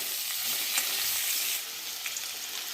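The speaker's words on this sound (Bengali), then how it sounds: "এবার আলুগুলো খুব ভালো করে ভেজে নেব" Potatoes fry in hot oil for an egg and potato curry, giving a steady, close crackling sizzle with faint stirring scrapes, no voices.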